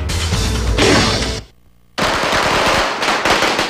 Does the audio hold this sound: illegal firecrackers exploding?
yes